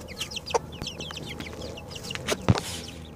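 Several young roosters cluck and squawk in short, overlapping bursts, with occasional louder calls rising over a steady farmyard background.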